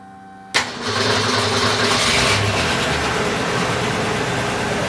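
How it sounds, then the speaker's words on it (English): A cold classic car engine cranks and catches with a sudden burst, then settles into a loud, steady idle roar with a low rumble that holds to the end. "it's very cold where we are, so we're going to have a cold startup"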